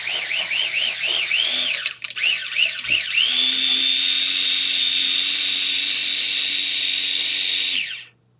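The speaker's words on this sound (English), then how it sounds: "Let's give that a good grind." A food processor grinds pâté with a spoonful of lemon, a loud high-pitched motor whine that wavers, stops briefly, then holds steady before spinning down at the end.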